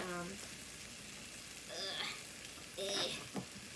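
Butter sizzles softly while being swirled around a frying pan for a fried dessert. The hiss is faint and continuous, broken by a few short vocal sounds.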